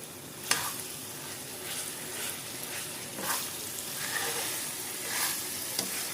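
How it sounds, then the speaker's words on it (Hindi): Roasted chicken is stirred with finely chopped green coriander in a hot pan, a steady sizzle of frying with a few sharp scrapes of the spoon against the pan, close and with no talk. "इसको भी हम अच्छे तरीके से मिक्स कर लेंगे"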